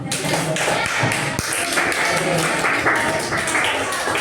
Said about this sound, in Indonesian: Ayo, tepuk buat semua